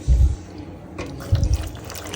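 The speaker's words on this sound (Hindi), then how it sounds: "तो इसको पहले हम थोड़ी देर इसमें दूध डालेंगे और दूध डाल के रख देंगे" Milk poured into a bowl while preparing fruit custard, giving two short low liquid splashing bursts with a quiet pause between them, close and moderately loud.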